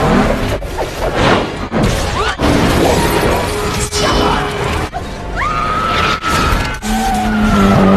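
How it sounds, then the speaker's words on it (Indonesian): Race cars crash in a racing-film scene as tyres skid and screech, metal smashes and debris shatters in loud repeated impacts, with a voice narrating over the chaos. "Obeng yang tersangkut di mobil mengakibatkan kecelakaan para pembalap."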